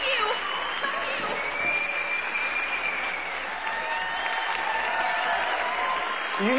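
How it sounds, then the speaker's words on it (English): A crowd of fans applauds and cheers steadily, a dense wash of clapping and shouting that holds loud throughout with voices mixed into the noise. "Other than the hundreds of screaming fans?"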